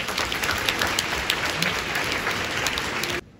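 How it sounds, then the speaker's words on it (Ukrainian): Concert audience applauding in a large Kyiv palace hall during a presidential symphony orchestra event, a dense sustained roar of clapping that carries evenly before cutting off abruptly near the end. "Під ваші вічні оплески."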